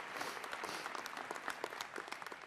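At a graduation ceremony, an audience applauds scholarship and bursary recipients with a brief burst of many hands clapping at moderate distance, individual claps standing out within the steady patter.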